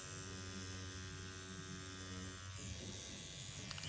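A Stigma Stylist tattoo pen machine runs at 7 volts with a steady, faint electric buzz and hum, shifting slightly in tone partway through, with no voice.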